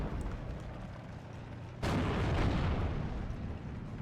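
A single loud cannon shot rings out partway through from a Sherman tank in the Steel Division: Normandy 44 wartime strategy game. Faint low rumble comes before it, and a long booming tail follows afterward, with no voices.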